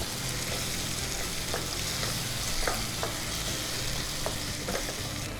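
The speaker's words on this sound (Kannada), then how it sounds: "ಹಾಗಾದರೆ ಬೇಗ ಅದು ಟೊಮೆಟೊ ಫ್ರೈ ಆಗ್ತದಲ್ಲ" Tomatoes fry in a hot pan for capsicum sabzi, a constant close sizzle broken by regular spoon scrapes and taps of stirring.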